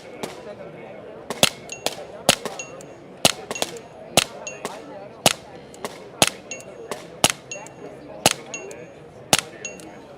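Sharp, isolated pistol-like cracks ring out one after another at an uneven pace during a Mantis X3 training demo at a convention, each a brief bright snap over a faint busy hall.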